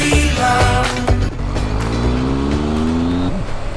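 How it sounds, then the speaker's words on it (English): A Triumph Tiger 1200 motorcycle engine under way on Pyrenees roads, heard as a steady loud drone with rising and falling tones of shifting revs, plus wind rush throughout. "Very smooth engine this."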